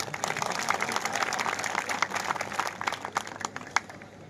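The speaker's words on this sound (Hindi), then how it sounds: "अब तो ताली बजा दो भाई।" A crowd at a public event with the deputy chief minister breaks into applause, dense clapping at moderate distance that gradually thins into sparser individual claps toward the end.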